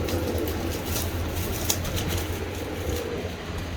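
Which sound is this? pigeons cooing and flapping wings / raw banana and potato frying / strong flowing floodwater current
pigeons cooing and flapping wings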